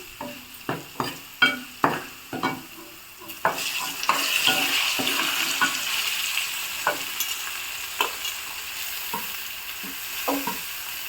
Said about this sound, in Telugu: ఇప్పుడు దొండకాయలు వేసుకుందాం